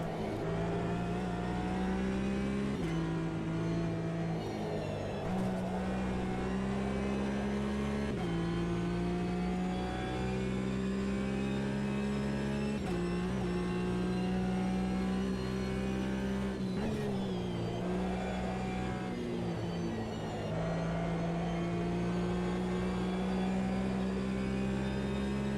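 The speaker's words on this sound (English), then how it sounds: "This car sounds okay, right?" Race car in Automobilista 2 with its engine droning continuously and loudly, the pitch climbing through repeated upshifts as the car accelerates, with no talking.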